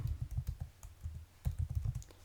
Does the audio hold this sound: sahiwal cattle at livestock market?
no